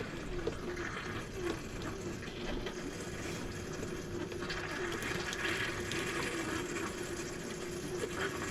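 Pink antifreeze runs from the kitchen sink faucet of an RV being winterized. A steady, fairly faint trickle of liquid continues with a few small mechanical clicks and no talk.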